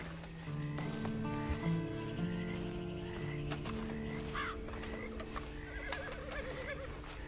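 In the Red Dead Redemption 2 game a horse whinnies and snorts nearby while hooves clop and shuffle, over a steady low ambient hum with scattered game effects.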